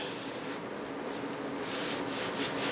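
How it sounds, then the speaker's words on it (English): Hands rub oil over pizza dough and around its edges, making a soft, steady, continuous rubbing and smearing sound close up and quiet, with no voices. "I'm gonna rub that all over. Try to get all the edges."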